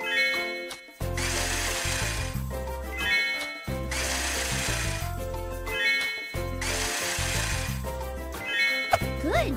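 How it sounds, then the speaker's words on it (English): A fishing hole is drilled in the mobile game Emily's Polar Adventure. Three separate whirring drill bursts, each a couple of seconds long, are split by short pauses, with light game music running underneath. "Let's drill a hole."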